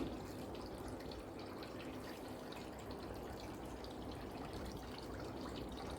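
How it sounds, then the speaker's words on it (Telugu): Raw mutton is washed in water for a spicy Andhra-style curry, giving a steady, soft splashing and trickling wash that goes on throughout at low volume. "మటన్ని శుభ్రంగా కడుక్కుందాము"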